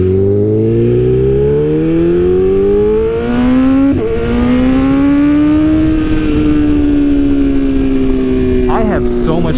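A Honda Ruckus scooter engine revs hard on a dyno and climbs steadily in pitch, held at high speed, close and loud, with a brief dip partway through.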